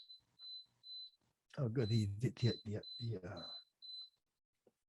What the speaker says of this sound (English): That's my alarm, which is fine.